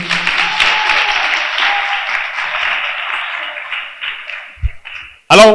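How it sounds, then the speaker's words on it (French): Loud, sustained applause from a girls' high school audience in Bouaké fills the clip, a dense wash of clapping that fades slightly before a brief burst of voice at the end. "Public, applaudissez pour vous-même."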